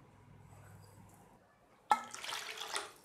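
Water pours into a pot over tamarind chutney ingredients (sugar, large ginger chunks, fennel, cumin, red chilli and black salt), starting after a quiet moment as a sudden, steady splashing rush that runs to the end.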